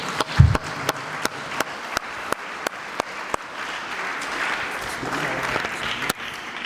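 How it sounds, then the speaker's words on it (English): Applause for graduating Year 11 and Year 13 students at a senior school graduation, a few loud close claps in a steady rhythm over a broader crowd clapping that builds and swells. "Can we first just give them a clap of applause?"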